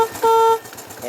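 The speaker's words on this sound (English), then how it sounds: "Horn works." The horn of a 1967 Honda CB450 Black Bomber motorcycle gives a single short, steady electric beep lasting about a third of a second, close and clear, with faint idle rumble around it.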